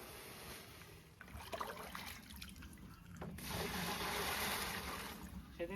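Betta fish being poured from a boat into a pond, a steady splashing and trickling of water that swells louder midway and continues at close range, with faint voices in the background.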